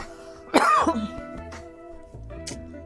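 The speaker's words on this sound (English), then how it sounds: "I'll go coughing again." A single loud cough bursts out, followed by a lingering hum and a brief second throaty sound.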